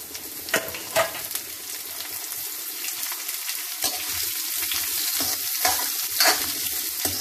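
Cumin, fenugreek and mustard seeds sizzle steadily in hot oil, a bright crackling hiss with occasional pops and stirring scrapes, close and continuous.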